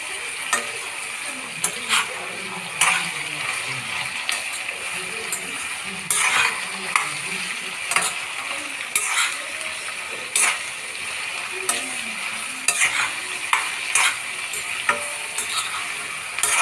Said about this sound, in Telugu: ఇలా అయితే కలుపుకొని మనం ఫ్రై చేసుకోవాలి